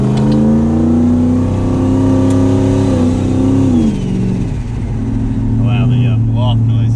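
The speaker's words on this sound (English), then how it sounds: "Wow, the blow-off noise is crazy." A turbocharged 1,000 HP Ford Mustang GT engine revs loudly with rising harmonics, then drops off as the turbo blow-off valve releases with a sharp hiss near the end, while people talk over it.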